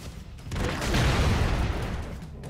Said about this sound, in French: Explosion atomique.